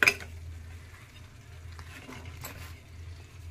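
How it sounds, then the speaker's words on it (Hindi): Halwa being stirred in ghee in a pot as a prasad offering, a soft scraping and faint sizzle that runs steadily and quietly, with a slightly louder clink at the start. "मैं थोड़ा सा प्रसाद में हलवा बना रही हूँ शिव जी को चढ़ाने के लिए।"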